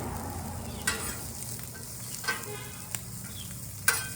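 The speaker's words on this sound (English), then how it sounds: "I like my onions, when I do stir fry, I like them nice and cooked." Onions frying for a stir fry on a flat iron griddle, with a continuous close sizzle and a few sharp scraping or stirring clicks from a utensil.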